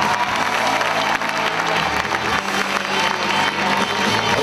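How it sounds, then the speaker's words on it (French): Thunderous applause and cheering from a prize-giving crowd for the Route du Rhum winner, dense and continuous, loud and sustained throughout with a low rumble of voices. "possible d'écouter un tonnerre d'applaudissements pour le grand vainqueur de cette Route du Rhum destination Guadeloupe 10e édition"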